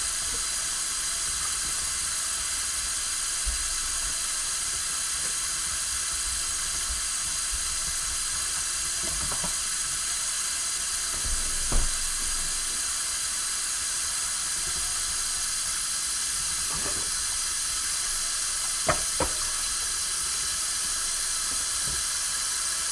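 Dishes washed by hand in a kitchen sink under a running tap, a steady hiss of flowing water with a few soft clinks and knocks of dishes scattered through it.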